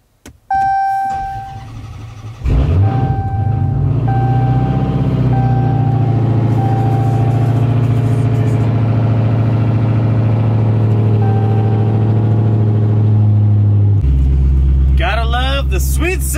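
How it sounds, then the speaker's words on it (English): A Mopar-powered Jeep engine cranks to life and settles into a loud, steady, rumbling idle close by, with a brief shift in tone near the end as other sounds break in. "Gotta love the sweet sound of Mopar."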